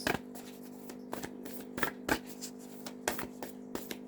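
A deck of tarot cards being shuffled: repeated riffling, flapping card bursts close by, with soft pauses between them over a faint steady hum.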